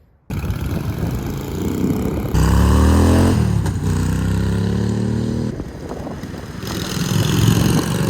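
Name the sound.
repaired motorcycle being ridden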